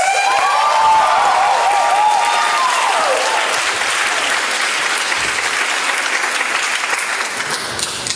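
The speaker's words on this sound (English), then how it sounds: "let's give a warm round of applause for Laurel Harris" Warm audience applause for a performer at an evening school show, a dense, loud wash of clapping throughout, with a brief whistle-like tone early on.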